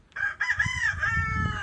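A young rooster crows in its pen in one strong, close call lasting over a second, with a low rumble of background noise beneath it.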